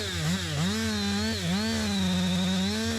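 A chainsaw bores into a felled tree on a cutting day, its engine loud and close, the pitch dipping and recovering as the bar bites into the wood, with no talk.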